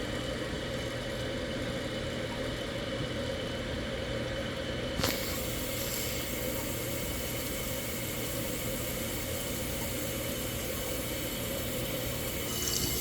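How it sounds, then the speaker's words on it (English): A toilet tank refilling after a flush while a new flush valve and flapper are fitted, giving a steady, loud hiss and rush of water from close by, with a small clunk midway and no talk. "water's filling up. Now as this thing fills up, water hits this float valve here"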